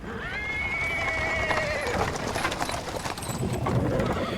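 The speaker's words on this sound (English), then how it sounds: "He is interrupted by the sound of wheels rolling on paving stones. A cart drawn by a sad little horse appears from around the corner." A sad little horse pulling a cart over paving stones in a fantasy city street, with repeated whinnies and neighs ringing clearly over a steady rumble of clopping hooves and rolling wheels, close and fairly loud throughout.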